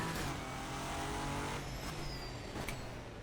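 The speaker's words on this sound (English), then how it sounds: "brakes locking up through there" A race car's brakes lock up with a tire squeal during a 24 Hours of Le Mans practice session in the rFactor 2 racing sim, the skid cutting through a steady, loud engine and road roar.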